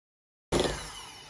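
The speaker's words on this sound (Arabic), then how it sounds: "بخفقهم كمان على سرعة عالية." Double cream and jam whipped with an electric mixer on high speed, a loud, close, steady whir that kicks in abruptly after a brief silence and continues alone to the end.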